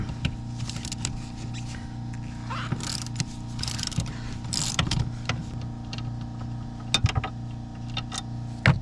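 A ratchet wrench with an M10 triple square socket turning out car seat bolts, with rapid clicking bursts and metallic clanks over a steady low hum, close and fairly quiet.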